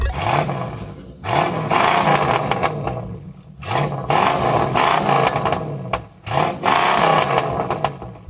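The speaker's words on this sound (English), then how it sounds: "now we got to do a rev battle first. Let's see what sounds good. Here comes the Mustang." A 1968 Ford Mustang engine revs hard in repeated bursts, rising and falling roughly every second or so, loud and close.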